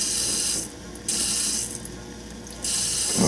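A part of an LG washing machine runs during a repair for a no-water-fill fault. It gives a close, steady mechanical hiss and whir that cuts down twice and comes back, with faint rattles and no talking.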